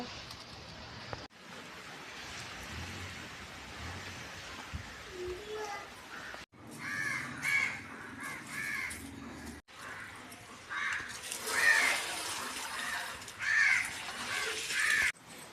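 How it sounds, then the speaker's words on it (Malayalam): Several crows cawing repeatedly at a moderate distance, harsh calls recurring throughout, with other birds and some voices in the background. "കാക്കകളും കിളികളും എല്ലാവരും വന്ന് കഴിച്ച"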